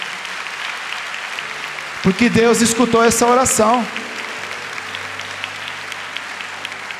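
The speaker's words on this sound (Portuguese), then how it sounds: "Vai batendo palmas aí para quem está do seu lado," A church congregation claps hands through a worship service, a steady patter of applause running beneath a preacher's loud spoken Portuguese.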